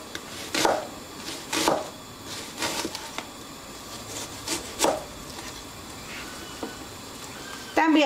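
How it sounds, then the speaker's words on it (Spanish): A knife dices a vegetable (nopal) into small cubes on a board, giving a series of sharp, uneven chopping taps close up, with a quiet voice speaking now and then between the cuts. "También la vamos a picar en cuadritos pequeños."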